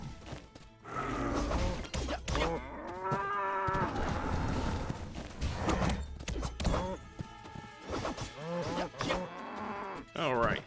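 Cattle mooing in the life-sim video game My Time at Sandrock, several loud, drawn-out lowing calls from cows close by, one after another with short gaps, mixed with some clattering game noise.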